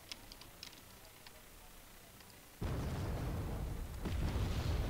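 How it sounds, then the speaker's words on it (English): Artillery cannon fire booms in the Wargame: Red Dragon strategy game, quiet ticking and small pops first, then a sudden heavy rumbling blast that sustains and swells again near the end. "Fire the cannons!"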